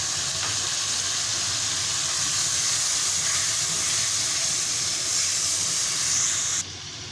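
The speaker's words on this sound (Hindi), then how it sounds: "ये देखिए, मैं थोड़ा सा पानी भी डाल दूँगी इसके अंदर।" Water splashed into a pan of frying green chickpea curry masala bursts into a loud, continuous sizzle and hiss of steam that holds steady before dropping off sharply near the end.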